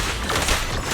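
Burst of rapid gunfire in the video game Zenless Zone Zero, a dense, loud fusillade of overlapping shots running steadily for under a second with no pauses.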